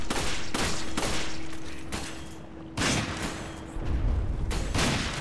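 Gunfire in Resident Evil 5 as Sheva shoots at a creature's armor: several sharp, loud shots in uneven bursts with a steady mechanical hum underneath, heard close and alone.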